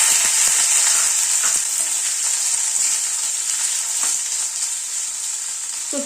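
Parboiled potato pieces frying in a pan, a loud, dense, continuous sizzle with a few faint taps of a utensil, no voices.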